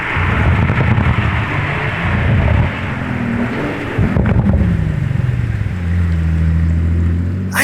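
Pagani Zonda 760 LH supercar pulling away, a loud continuous engine roar with rising and falling pitch as it accelerates and shifts, settling into a steady low drone near the end, with wind buffeting throughout.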